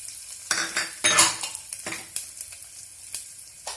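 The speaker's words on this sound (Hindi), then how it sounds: "जैसे ही तेल गर्म होगा इसमें हम डालेंगे सबसे पहले पचफोड़ना, फिर सूखी लाल मिर्च और फिर हींग डालेंगे हम।" Panch phoron, dried red chilli and asafoetida go into hot oil in a pan. Sharp bursts of sizzling and spluttering come with each addition, alongside close spoon scrapes and stirring clinks, and no one speaks.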